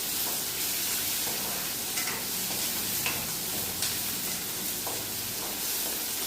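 Onion sizzles steadily in a hot pan while a spoon stirs and scrapes with soft periodic knocks, close and continuous.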